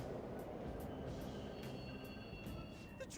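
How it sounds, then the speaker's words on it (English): Subway trains running in the Persona 5 Royal video game, a faint low rumble of rolling rail cars with thin metallic squeals and ticks, distant and steady throughout. "The trains are totally running!"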